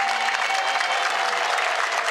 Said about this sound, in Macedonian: Аплауз да ги поздравиме екипите